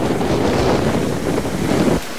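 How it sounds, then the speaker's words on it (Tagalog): Strong wind buffets the microphone over raging surf as Typhoon Yolanda (Haiyan) strikes the coast at Baclayon, Bohol, a loud continuous roar of wind and crashing waves that cuts off abruptly near the end. "Nagngangalit din ang mga alon sa bayan ng Baclayon."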